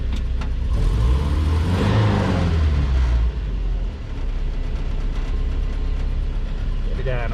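A 1966 Toyota Stout body on a 4Runner chassis drives along with manual brakes being tested, its engine rumbling loud and close with rattling mechanical clatter, easing off partway through before carrying on steadily.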